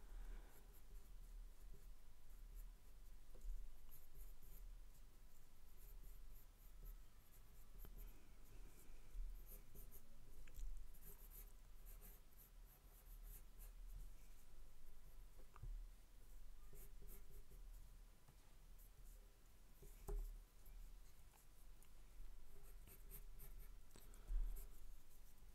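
A pencil sketches on paper during a basic drawing exercise, making faint, steady scratching and rubbing strokes that run continuously, quiet and close, with brief louder scrapes and no voices.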